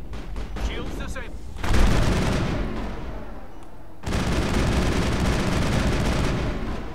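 Rapid gunfire bursts from the Mass Effect video game, loud continuous volleys in two long stretches after a brief opening of scattered shots and electronic effects, with speech mixed in.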